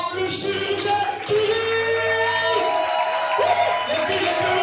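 A live stage audience cheers and shouts to welcome a performer from Pointe-Noire, with loud, steady crowd noise and whoops through most of the moment, briefly dipping and swelling again, while a host's voice carries over it.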